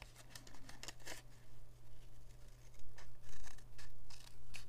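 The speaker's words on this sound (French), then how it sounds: "vous pouvez couper comme vous voulez, au ciseau, au massicot, au cutter, mais bien droit et les deux épaisseurs à la fois" Paper is cut with scissors, two layers at once, making close, crisp snipping and slicing sounds in quick clusters over a steady low hum of the room.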